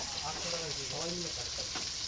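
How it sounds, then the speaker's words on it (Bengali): Steady, even sizzle of food frying in oil, with soft scraping and stirring sounds on top. "পেঁয়াজ দেওয়া হলো, পেঁয়াজটা দিয়ে এবার ওগুলো একটুখানি ভাজা হবে।"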